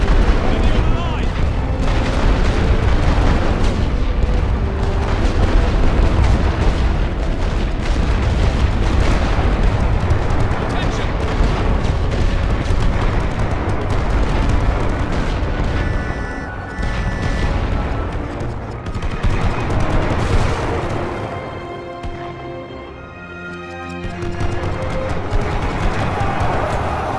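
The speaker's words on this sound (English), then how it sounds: "Ready full barrage." A sustained artillery barrage in The Great War Western Front, with continuous heavy booms and rumbling blasts rolling over one another, loud and dense throughout and dipping briefly near the end.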